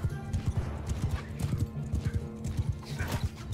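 Horse hooves gallop in the Mount & Blade Bannerlord video game, a fast, steady clip-clop rhythm pounding close and loud, with a voice talking briefly over it.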